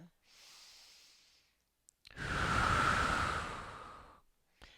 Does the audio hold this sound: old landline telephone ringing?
no